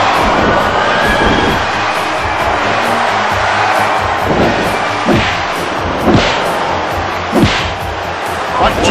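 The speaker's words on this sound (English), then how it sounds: "Chant going on from this capacity crowd" Capacity crowd at a WWF Survivor Series wrestling match (Andre the Giant vs Ric Flair) roaring and chanting USA, a dense sustained arena din with rhythmic bursts and sharp thuds, loud, with a commentator's voice partly audible.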